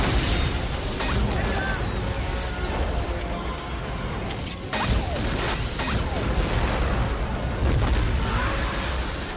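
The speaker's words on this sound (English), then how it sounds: "did he not hear or see that explosion?" Action-film explosion from the James Bond movie Die Another Day, a dense, roaring wall of blast and crashing debris with bursts and impacts swelling throughout, loud and sustained.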